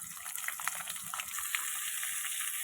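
Onions tipped into hot oil with crushed ginger and garlic: a bright, steady sizzle and hiss over a few seconds, fairly faint, with small crackles, without speech.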